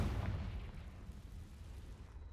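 The Confringo blasting spell in Hogwarts Legacy goes off as a single deep, booming blast that hits at once and fades into a low rumbling tail.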